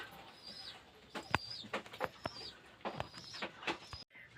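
Pigeons in a loft coo softly while drinking water, with faint, scattered throaty calls and small rustles, fairly quiet and close by.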